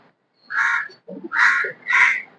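A crow caws three times close by, harsh and loud, with a brief pause between the first and second calls.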